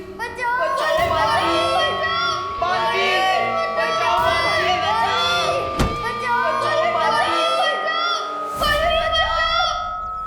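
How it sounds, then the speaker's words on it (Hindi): A crowd of children shouting and calling out together for help, loud and close, in repeated surging bursts with overlapping voices throughout. "भारत नगर के सभी बच्चे मुझे पुकार रहे हैं"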